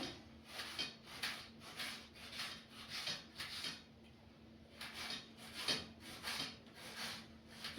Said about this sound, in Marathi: आता याला एकदम बारीक कापून घेऊया आपण.